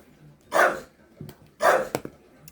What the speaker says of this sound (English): He's barking. He's barking at the postman because the postman's coming.